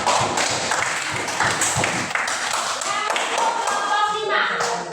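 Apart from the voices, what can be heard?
classroom applause for a group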